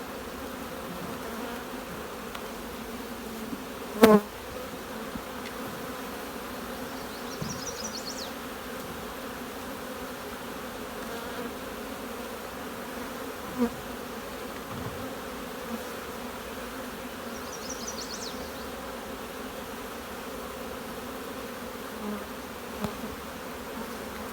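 Honey bees droning around an open nucleus hive during harvest, a faint continuous buzz with occasional individual bees passing close, plus a few soft knocks of handling.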